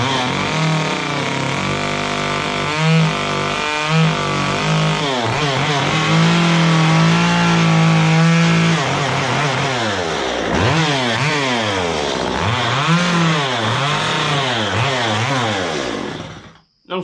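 A chainsaw runs loud and close while cutting wood to carve a bear head, its engine rising and falling in pitch as the blade bites in and eases off, with no talk over it.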